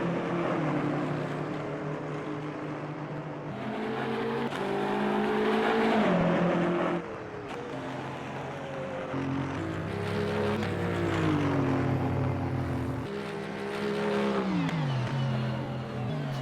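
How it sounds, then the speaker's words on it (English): Race car engine in a sim racing video game at Brands Hatch, revving loudly and continuously with rising and falling pitch through gear changes and corners, heard alone without commentary. "Hector Thompson getting that car sideways and into the kitty litter there"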